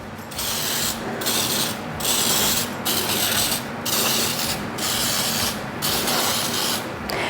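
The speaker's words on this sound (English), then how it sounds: "But I'm gonna spray these." Cooking spray hisses from a can into mini loaf pans in a rhythmic series of about eight short bursts, each a loud close airy spray separated by brief pauses.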